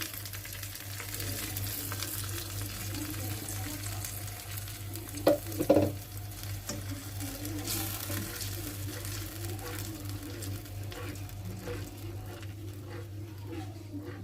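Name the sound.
chili paste frying and being stirred in a pan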